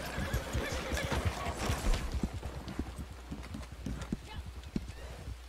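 Horse hooves clip-clopping in Red Dead Redemption 2 Online, a steady rhythmic trot of close, sharp hoof strikes with occasional neighs, running under a player's voice.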